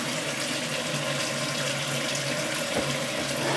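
Hot water runs steadily from a bathroom tap in a continuous hiss and splash, close and unbroken, with no voices.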